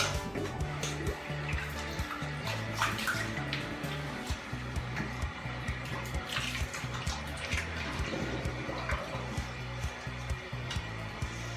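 An OmniShaver electric shaver is rinsed under running tap water, a steady close splashing and gushing flow with small clatters and handling knocks throughout, with no voices.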